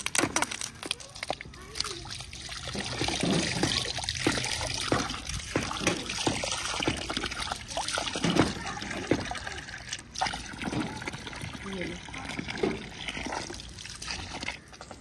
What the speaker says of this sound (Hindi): गिलास धो के पानी भरो।